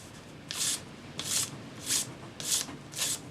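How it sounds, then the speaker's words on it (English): Sanding stick rubbed against a metal spinner ring to remove excess solder: five short, regular rasping strokes, each about a third of a second, close and fairly quiet, with no voices. "Use your sanding stick"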